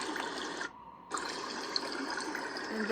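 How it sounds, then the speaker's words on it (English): A babbling brook sound from an AIRIVO sound-machine alarm clock gives a steady, gentle water rush that drops out briefly near the start and then resumes. "brook."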